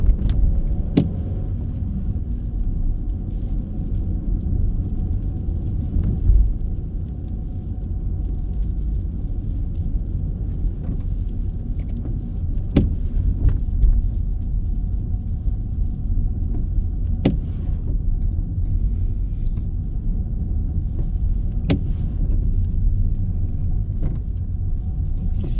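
A car travels slowly through a 30 km/h zone, heard from inside as a steady low road rumble and engine hum with faint rattles and a few sharp clicks, and no talking.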